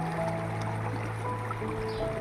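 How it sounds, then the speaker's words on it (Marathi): Gentle, steady flow of the Shalmala river near Sonda village in Sirsi, Karnataka, a soft continuous watery wash heard close by with no break. "शाल्मला नदीचा हा सुंदर शांत प्रवाह"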